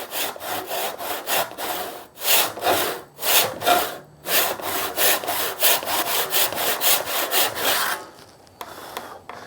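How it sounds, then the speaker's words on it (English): A hand saw cuts through wood for a chopping board in steady back-and-forth strokes, each rasping pass loud and close, with short pauses between bursts and the strokes stopping near the end. "I could just as easily put this in the vise and cut downwards, but doing it this way I find it's more accurate"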